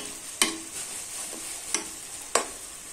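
Chopped onion, garlic, tomato and green chili fry in a pan with a steady close sizzle, broken by three sharp clacks of a utensil stirring against the pan.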